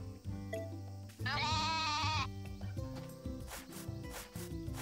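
A sheep in the farming game Story of Seasons: A Wonderful Life lets out one loud, quavering bleat over steady background game music, with no talking.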